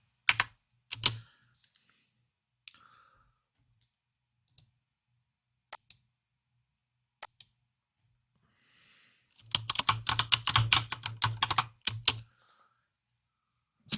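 Keystrokes on a computer keyboard during a server lab exercise: scattered single clicks with long gaps, then a dense fast burst of typing near the end, close and clear with no talk.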